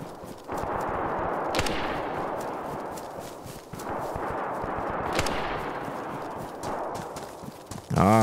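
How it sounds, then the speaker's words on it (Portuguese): Enemy gunfire in the DayZ video game: repeated loud bursts of shots fire in steady rapid runs over several seconds, with brief pauses between volleys and a short sharp sound at the end. "Olha ele atirando, ó."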